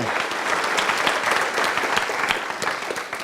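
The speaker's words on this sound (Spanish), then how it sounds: "Dale un aplauso al Señor." A church congregation at a Spanish-language worship service claps, a thick, continuous wash of many hands at fairly close range sustained throughout, with no voices.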